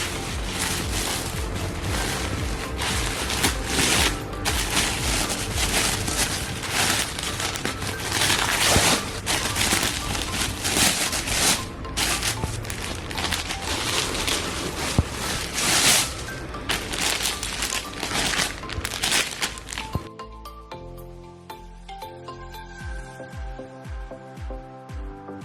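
A plastic-wrapped online shopping package holding sleepwear is torn open, giving a steady, close, crinkly rustle for about twenty seconds before it gives way to quieter, sparse tones.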